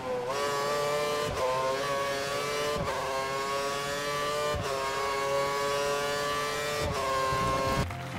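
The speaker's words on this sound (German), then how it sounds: "Hören wir nun zum Vergleich noch einmal die Triebwerke der 80er Jahre und die der Neuzeit im Vergleich an." Simulated Formula 1 engines from the F1 2013 racing game, 1980s turbo-era cars alongside modern ones, wailing loudly and continuously with rising revs and sharp gear-change dips every second or two, no talk over them.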